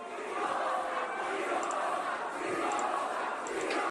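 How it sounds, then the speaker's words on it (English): A crowd at a boxing event chants and shouts continuously in the background, a dense, loud roar of many voices that holds steady throughout. "the crowd in the background is chanting to Logan about Chloe Bennett"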